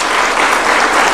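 A dense burst of applause from an audience at a State House reception honouring a women's football team and their coach, steady and loud.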